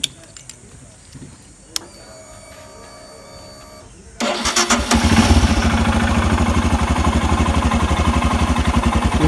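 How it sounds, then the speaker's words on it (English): A motorcycle being jump-started with jumper cables: a couple of faint clicks, then the engine catches and settles into a loud, steady, close-up idle with a fast even pulse. "We're gonna put on the ignition key and start the motorcycle."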